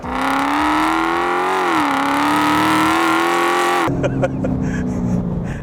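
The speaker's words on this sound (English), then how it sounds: "when you gun it like that, of course, immense power, a lot of wheel spin" A 1000 hp Dodge Challenger Hellcat accelerates hard with wheel spin, its loud engine roaring steadily with a rising pitch before cutting to lower rumbling and scattered clicks near the end.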